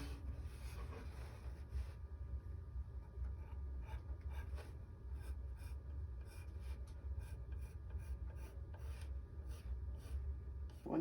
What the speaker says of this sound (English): we're going to draw out a nice little heart out of a piece of scrap mahogany.